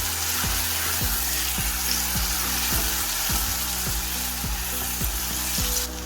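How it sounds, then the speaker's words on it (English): Chopped onion with salt sizzles and fries steadily in a pan for a curry, a continuous close crackle with regular soft stirring scrapes and no talking. "I add the salt straight away to the onion so it softens up quicker"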